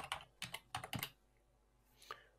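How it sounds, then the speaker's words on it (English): Password being typed on a computer keyboard: a few quick clustered keystrokes, close and clear, followed by a pause and one last key press, with no talking. "Then type in the password"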